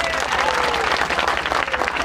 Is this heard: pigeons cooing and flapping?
no